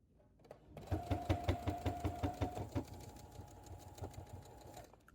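A sewing machine runs with its feed dogs pulling fabric along, giving a steady rapid mechanical chatter of needle strokes at close range that fades into a lighter hum partway through.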